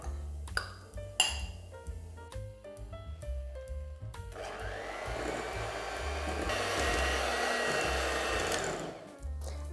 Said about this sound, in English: Now add the remaining buttermilk, and we're going to mix it again.